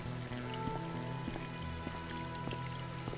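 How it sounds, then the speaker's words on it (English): Sprinklers watering a lawn in Broken Sword: Shadow of the Templars, a faint steady hiss and patter of spraying water with small scattered drips, low and continuous throughout. "Are they watering the lawn?"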